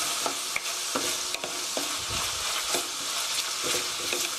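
Meat for kimchi stew sizzles steadily in a pan with butter and soy sauce, with close scraping and stirring knocks from a utensil recurring over the continuous frying hiss.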